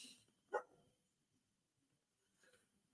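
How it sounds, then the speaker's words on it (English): A single dog bark from outdoors, distant and fairly faint, rises once early on against a quiet indoor background, with a softer yelp or whimper trailing near the end. "Can you please get the dog to stop barking outside?"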